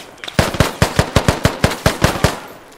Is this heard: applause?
no